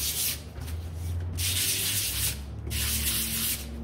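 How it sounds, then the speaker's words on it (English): Painted wooden pieces for a bunting flag get a quick hand sanding: close, loud scratchy rubbing strokes in a steady back-and-forth rhythm with short gaps, no voices. "I'm gonna give them a quick sand."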